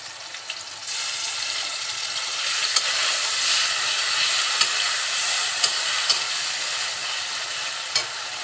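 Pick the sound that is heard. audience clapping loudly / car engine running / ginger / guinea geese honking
ginger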